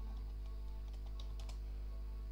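A few faint, scattered keystrokes on a computer keyboard as a MongoDB command is typed into a Raspberry Pi terminal, over a steady low electrical hum.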